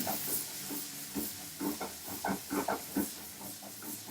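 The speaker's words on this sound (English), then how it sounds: "So just saute your onion" Onion sautéing in a pan for a beef Wellington, giving a steady close hiss broken by rhythmic bursts of crackle and stirring.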